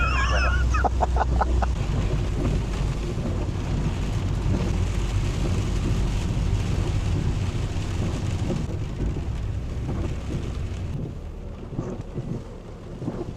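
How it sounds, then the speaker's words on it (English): Heavy rain falling on a Fiat Doblo campervan in Wales, a dense steady roar of drumming drops with low rumbling, continuous and loud, easing slightly toward the end. "as you can hear that rain, you can see that rain. It is coming down like cats and dogs"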